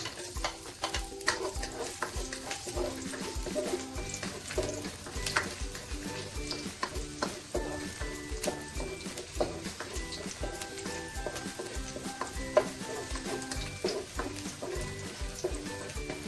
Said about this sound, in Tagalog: Igisa na po natin yung bawang at saka sibuyas.